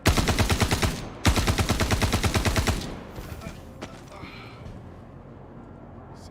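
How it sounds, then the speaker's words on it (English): Rapid automatic gunfire from a bounty-hunting video game, two loud sustained bursts with a short gap between them, then a scattering of fainter, more distant shots. "Get ready to shoot."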